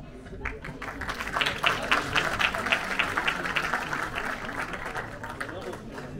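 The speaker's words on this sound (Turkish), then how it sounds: "büyük bir alkışlar veriyorum" Applause rises from a crowd at a Turkish film gala premiere, a rippling clatter of clapping that swells, peaks midway and slowly fades, with voices talking over it.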